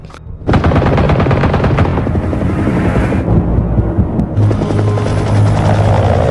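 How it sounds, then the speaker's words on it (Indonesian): A helicopter's loud rotor drone fills the air while rapid bursts of automatic gunfire rattle repeatedly, close and intense, with no voices. "helikopter CIA terus mengawasi mereka, lalu melepaskan tembakan yang tepat mengenai tubuh Philip."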